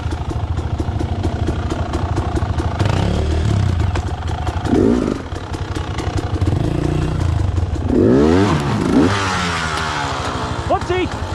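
A dirt bike rides single-track trails at Calabogie, its engine buzzing and revving hard, rising and falling with throttle changes and clattering over rough ground, while a rider's voice talks over the noise.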